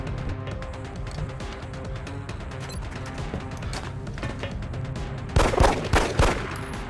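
Gunfire in the PC video game XCOM Enemy Within, with pistol shots among rapid sharp bursts over a steady game soundscape, a louder cluster of shots near the end.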